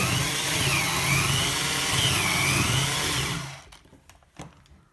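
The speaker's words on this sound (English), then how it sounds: "go ahead and drill the pocket hole" A power drill whirs loudly and steadily while drilling a pocket hole in wood, its pitch rising and dipping, then stops abruptly, followed by a few light clicks and knocks.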